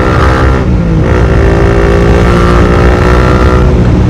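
A Honda CBR150R fitted with a Daytona GP Taper racing exhaust and a dB killer revs loud and close, a sustained raspy engine drone that rises and dips slightly with the throttle.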